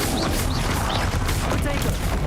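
Spell effects crackle and burst in Hogwarts Legacy as fire and ice spells are cast in rapid succession, a continuous loud wash of magical whooshes and impacts with whistling tones layered over it.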